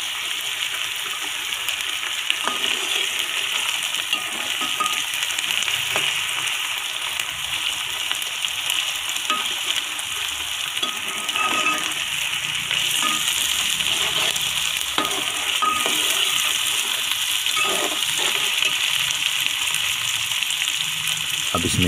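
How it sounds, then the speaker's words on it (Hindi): Onions with ginger garlic paste frying in a pan for cauliflower curry, giving a continuous loud sizzle with scattered crackles and occasional stirring scrapes throughout. "थोड़ी देर पकाने के बाद इसमें अदरक और लहसुन का पेस्ट डाल देंगे"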